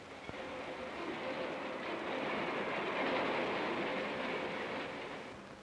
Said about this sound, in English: Super express trains travel up to 156 miles per hour.